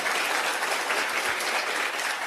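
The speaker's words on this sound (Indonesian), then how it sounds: "Tepuk tangan dulu buat Anda deh" Brief burst of steady audience applause in a seminar hall, a dense wash of clapping hands at moderate volume with no voices over it.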